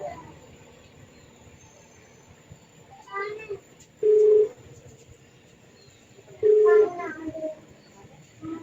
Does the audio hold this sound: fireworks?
no